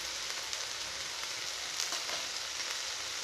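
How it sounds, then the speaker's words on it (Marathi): Mixed vegetables for street-style pav bhaji sizzle steadily in a hot pan, a soft continuous frying hiss with faint scrapes of stirring, heard alone. "आणि हे सर्व मिश्रण 2 मिनिट आपण यावरती परतून घेऊयात"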